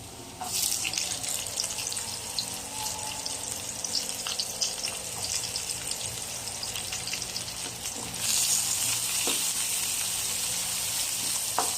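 Garlic and onion sautéing in hot oil for kaldereta with pork ribs, a steady broadband sizzle that runs throughout and grows louder and denser near the end, with occasional faint clinks and no talking.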